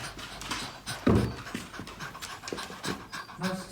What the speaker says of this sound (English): She's one of the cutest dogs in the world.